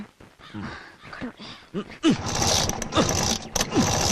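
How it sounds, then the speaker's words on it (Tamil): A motorcycle that won't start being kick-started: repeated mechanical clunks and ratcheting kicks without the engine catching, under excited talking voices. "ஐயோ நல்ல கிக் பண்ணுங்க என்ன ஸ்டார்ட் ஆகல"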